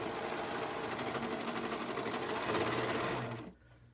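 Serger stitching fabric for tissue holders, a fast steady mechanical whir with rhythmic knocking that runs continuously for about three and a half seconds, then stops abruptly into quiet room sound.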